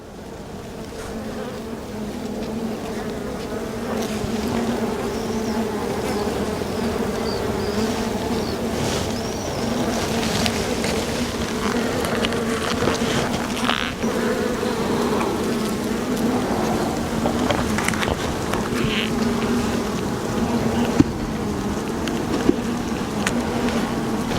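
Agitated honeybees buzz at an open hive full of brood, a dense continuous drone close by with shifting pitch as bees fly past, a few sharp taps near the end, no talking.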